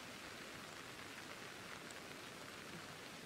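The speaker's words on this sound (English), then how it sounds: "let's get rid of this horrible, horrible weather. Please go away, Rain." Rain in the video game Pokemon Legends Arceus, a soft, even hiss of falling rain, quiet and unbroken throughout with no speech.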